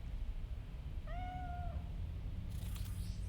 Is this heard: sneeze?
no